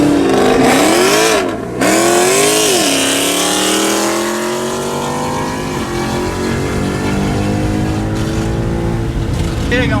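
A loud 700 whp Whipple-supercharged, big-cam Scat Pack muscle car on street tires roars and revs hard, pitch climbing and falling before settling into a sustained, aggressive drone close by.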